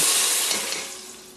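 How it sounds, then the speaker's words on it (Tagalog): Water poured into a pot of sautéed ingredients for Filipino salmon head soup, a steady loud rushing hiss with sizzling that gradually fades over about a second and a half. "So, lalagyan na natin ng tubig."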